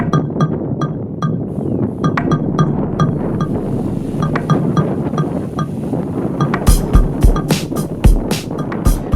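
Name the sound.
strong wind at a port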